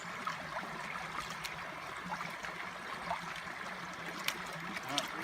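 Water sloshing and trickling through a Garrett Super Sleeve gold pan with 1-inch riffles at Reedy Creek, a soft continuous gurgle close by with occasional light splashes and clicks.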